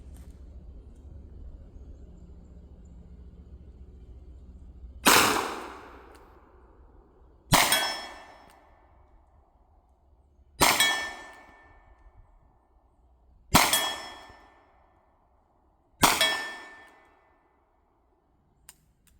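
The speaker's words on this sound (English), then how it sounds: "45 ACP out of a Taurus Judge." A Taurus Judge revolver fires .45 ACP rounds at steel targets outdoors, giving five loud, sharp shots spaced a few seconds apart, each with a ringing metallic clang and a decaying tail.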